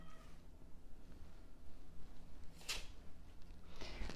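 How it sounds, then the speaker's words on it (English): A house cat meows at the door, wanting to be let back in; one short cry rises near the middle over a steady low room hum, then fainter sounds follow toward the end. "My cat wants to come back in."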